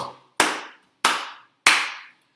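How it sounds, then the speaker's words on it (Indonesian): Congregation at a church service clapping their hands, three sharp, loud, evenly spaced claps that ring briefly into the room with no talking. "Tepuk tangan buat Tuhan Yesus."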